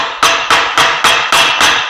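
A hammer knocks at the hub of a Harley Davidson trike with a drive problem: seven sharp metallic blows in an even, quick rhythm, close and loud, with no talking.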